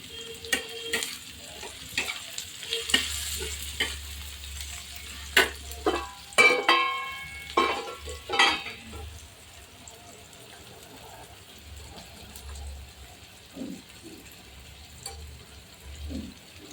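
Curry leaves hit hot oil in a pan for paneer bhurji, setting off loud bursts of crackling sizzle that fade to quieter popping, with a voice heard briefly.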